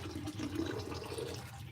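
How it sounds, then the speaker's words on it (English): Water runs steadily out of a shop bathroom drain, a quiet continuous gurgling wash with no voices. "That water's still running out of here."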